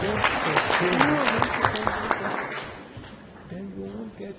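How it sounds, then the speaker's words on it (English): Applause from a conference audience at a family planning meeting in Nigeria, clapping that fades gradually while a voice speaks over it and continues as the clapping dies away. "Give him another round of applause"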